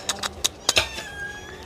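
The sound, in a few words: cat meowing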